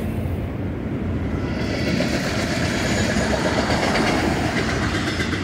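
Union Pacific 7799 freight train heading south at Sacramento, California, with a Norfolk Southern Penn Central heritage locomotive, rolling past with loud, dense rumble and clatter that swells and holds steady, heard alone.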